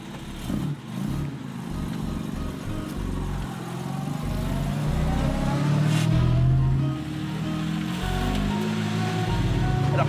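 A 1952 Jaguar XK coupé, a Fast Road-tuned 1950s sports car, running its engine: a loud, steady low drone with shifting tones as it is revved, close by and with no talk.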